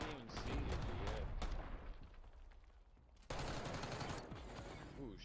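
Video game gunfire, rapid overlapping shots and bursts that dip briefly then return loud and dense, no speech.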